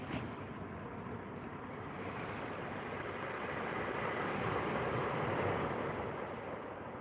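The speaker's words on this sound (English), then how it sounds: "The waves crashing away on your TV." Waves crashing on a TV heard from inside a bivvy on a sea fishing trip, a steady broadband wash of surf rising slightly toward the end, continuous and moderately quiet with no talking.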